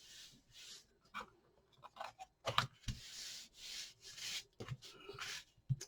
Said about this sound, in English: So we want to give that a good burnish down.